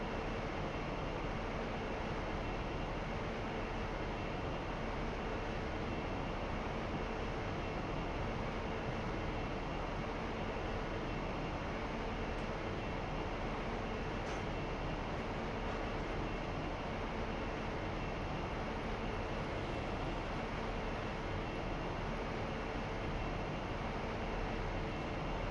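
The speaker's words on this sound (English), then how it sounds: "I will reapply them in a moment so I can start bringing the train to a full stop" A simulated passenger train on the Bristol to Exeter line, braking to a stop in a train simulator game: a loud, steady rumble of wheels and engine with constant rail noise and no distinct pauses.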